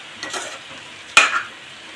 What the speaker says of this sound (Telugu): అరటికాయలు మామిడికాయలు అలా కొద్దిగా ఒకసారి అలా కలుపుకుందారు